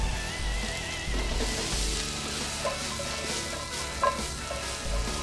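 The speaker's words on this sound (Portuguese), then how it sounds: "vou acrescentar cogumelos frescos aqui" Fresh button mushrooms frying in a pan with onion and garlic give a steady close sizzle, with faint stirring scrapes and a couple of light clicks, and no talk over it.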